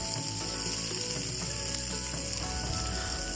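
Small peeled shallots sautéing in hot oil for a Kerala fish curry, a steady dense sizzle close by with faint clicking and scraping over it.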